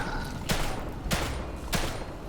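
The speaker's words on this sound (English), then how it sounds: "I'm going to clean up with the shotgun just so that I have some time" Three evenly spaced shotgun blasts in The Evil Within 2, each a sharp loud boom about half a second apart over low game ambience, with no speech.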